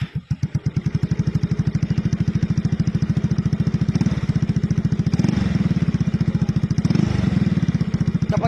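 A motorcycle with a power pipe exhaust fitted with a silencer idles steadily and close by, its low, even firing pulses thumping throughout, swelling slightly with small throttle blips near the middle and end.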